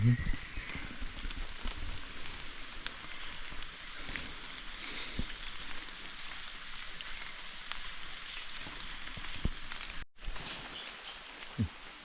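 Steady rain falling outdoors, a continuous dense patter with scattered sharper drops close by, holding evenly throughout before an abrupt cut near the end.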